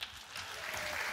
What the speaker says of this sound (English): would you give a big welcome to Aaron Levy